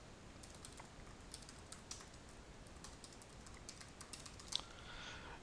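Typing an email address on a computer keyboard, quick quiet key clicks in an irregular rhythm, close but soft, with one slightly sharper tap near the end.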